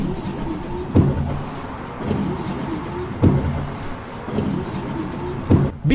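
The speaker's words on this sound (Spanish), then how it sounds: "Me callo un mes para que escuches el sonido de los limpiaparabrisas." Bus windshield wipers in a multiplayer bus driving video game sweep back and forth in a steady rhythm, about one stroke every two seconds, over a continuous engine and road hum with no talking.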